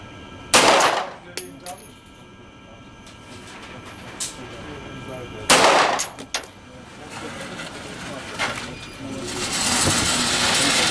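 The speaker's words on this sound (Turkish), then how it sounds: "Birinci mermi ıska. Ama diğer beş mermi bayağı güzel topladı." A Beretta APX pistol fires at a target on a shooting range: two sharp, loud shots several seconds apart, each with a short ringing tail, with faint clatter and handling noise between them.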